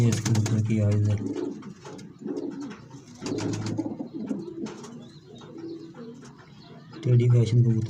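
Pigeons give low, throaty coos in short bursts at the start and near the end, close by. Someone speaks in between and over them.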